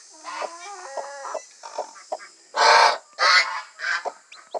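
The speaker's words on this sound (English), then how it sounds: "Alright, little Miss Red Hen" A red hen chicken clucking and calling close by, a series of short throaty clucks building into several louder, drawn-out squawks, with no talking.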